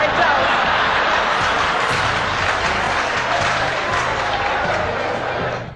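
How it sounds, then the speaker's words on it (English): A ceremony audience bursts into sustained applause, a dense, loud wash of clapping with crowd noise that holds steady for several seconds before tapering slightly at the end. "that moment did not just end with applause"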